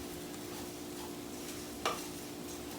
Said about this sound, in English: We just call it sauteing the rice.